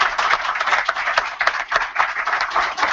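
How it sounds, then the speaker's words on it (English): An audience at a talk on China's energy anxiety gives a round of applause, a dense steady patter of many hands clapping for about three seconds at close range. "I suggested we just give David a good round of applause"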